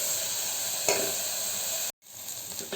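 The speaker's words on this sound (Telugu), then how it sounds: "అప్పటి వరకు ఇలాగే వేయించుకుంటూ కలుపుతూ ఉండాలి మనం." Ginger garlic paste fries in hot oil with a bright, dense sizzle close to the pan, a stirring scrape near the start, a sudden brief dropout, then the sizzle resumes slightly softer.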